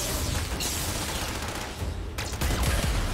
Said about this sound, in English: make it so that I can shoot through it to do more damage against Rhino here